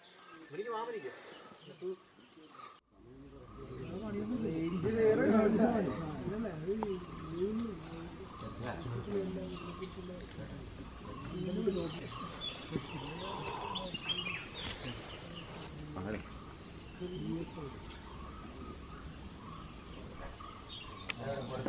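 Birds chirping and calling in the forest at a tent campsite in Munnar, scattered light calls in the background beneath a person talking for most of the stretch.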